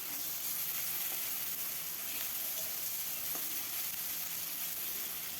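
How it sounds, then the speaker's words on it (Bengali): Paste of garlic, mustard and green chili frying in oil, a faint, even hiss of sizzling with a couple of light stirring ticks. "দিয়ে কিছুক্ষণ ভেজে নিলাম।"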